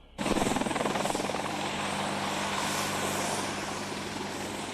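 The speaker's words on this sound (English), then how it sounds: "It's what makes the Apache one of the military's most advanced and most celebrated aircraft." A military Apache attack helicopter roars loud and close, its rotor chopping in a fast steady pulse under a dense, continuous engine drone that begins abruptly and holds throughout.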